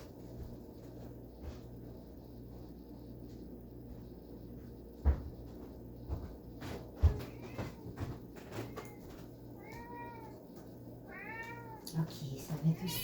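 A house cat meows several times, wanting kibble, with short rising cries toward the end over a steady low hum, along with a few knocks and cupboard-like thumps; a person talks softly nearby.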